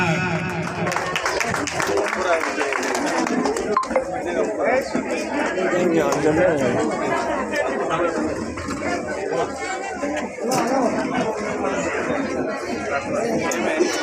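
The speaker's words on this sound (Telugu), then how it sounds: "once again big clap" An audience at a foundation-stone ceremony claps in a sustained, scattered burst of applause mixed with loud crowd chatter, running the whole stretch without a clear break.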